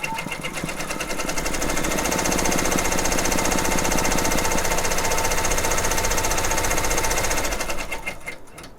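An embroidery machine stitches out a satin stitch, a loud, steady rapid mechanical chatter that holds continuously for about eight seconds before stopping.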